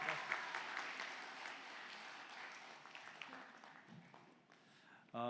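Applause from a church congregation during a family Sunday worship service as students come forward, a steady broad wash of clapping filling the room for several seconds, with a brief voice at the very end.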